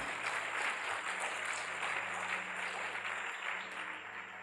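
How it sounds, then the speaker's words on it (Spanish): A church congregation applauds together, a continuous, even patter of clapping from many hands that fills the space and fades slightly toward the end. "Denle ese aplauso al Señor."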